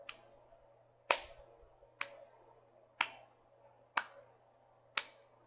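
A lone person claps slowly while crashing a party: six sharp, crisp claps spaced about a second apart, each ringing briefly, with a low steady hum underneath and no talking.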